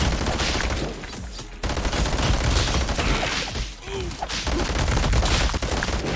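Dense, continuous gunfire from a shooting game, Madness: Project Nexus, with rapid overlapping shots sustained for several seconds at a loud, steady level and only brief dips.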